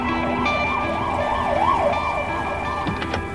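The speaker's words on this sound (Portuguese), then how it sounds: "passa na rua uma ambulância a caminho do hospital" An ambulance siren wails steadily as it passes along a street, its rising and falling tone loud and continuous over traffic rumble, with no talking.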